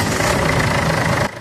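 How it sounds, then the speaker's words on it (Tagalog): A Ford Everest diesel engine runs with a rough, clattering rumble, loud and close, cutting off abruptly near the end. "pa-start ulit natin itong makina."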